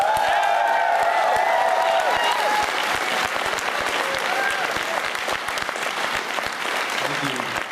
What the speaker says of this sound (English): Now, a round of applause.